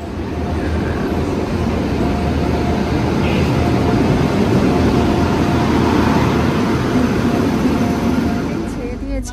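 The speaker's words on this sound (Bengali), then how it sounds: "আসছে ট্রেন" A train at Kharagpur station gives off a loud, even roar of running wheels and engine that swells gently and then eases off slightly at the end.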